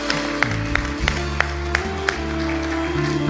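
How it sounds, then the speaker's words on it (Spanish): Scattered clapping from a church congregation, with sharp individual claps standing out over a continuous background of voices and music. "Give the Lord great applause."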